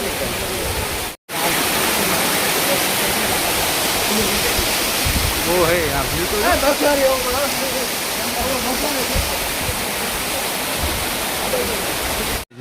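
Loud, continuous roar of rushing water close by, with voices talking and calling out faintly beneath it midway through.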